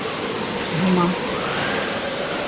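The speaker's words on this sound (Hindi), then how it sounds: "तभी बिजली कड़कने के साथ जोरदार बारिश होने लगती है।" Heavy rain pours steadily as a dense, even hiss, with a brief low rumble partway through suggesting thunder in a storm scene.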